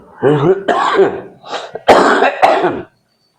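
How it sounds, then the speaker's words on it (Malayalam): A person coughs and clears their throat in a few rough, close bursts, with short pauses between them, during a fishing cast-net repair session. "ചുമയാണ്,"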